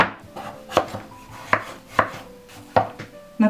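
Pumpkin being grated on a coarse grater, a close series of about seven sharp, rhythmic scraping strokes with short pauses between them, no talking.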